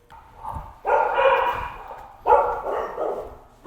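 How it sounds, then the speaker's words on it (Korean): Dogs bark at an animal shelter during a volunteer visit, with loud, close bursts of barking from several dogs, pausing briefly between outbursts. "강아지들."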